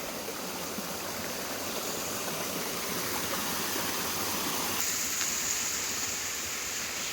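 Hillside stream water running while drinking water is collected in rural mountain country, a steady rushing flow close by with a faint high tone appearing toward the end, no talk.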